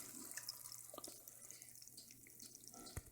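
Water runs and splashes into a pot of raw sauerkraut, faint and close, with a few drips and light clinks over a quiet indoor background.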